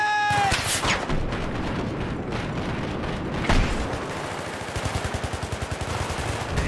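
Suppressing gunfire on a spider hole in the Battlefield 3 campaign, heavy rapid bursts of rifle and machine gun fire with booming impacts, loud and close, ending in a fast rhythmic stream of shots.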